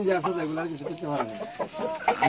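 Fighter-breed chickens on a farm cluck and call in quick, overlapping bursts close to the microphone, with a rooster-like tone among them and a voice mixed in.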